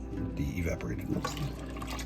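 Evaporated milk pours in a steady liquid trickle into pumpkin pie filling at home, close and continuous under a faint background of a voice.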